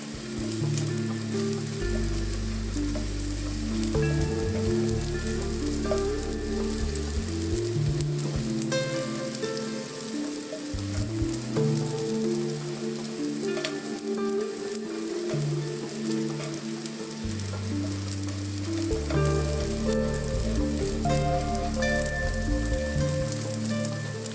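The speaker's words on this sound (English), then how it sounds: "Turn over the bread slices about a minute, depending on how hot the pan is." Bread slices toasting in an oily pan, a loud, steady sizzle and crackle of frying that carries on without a break, close up and with no talk.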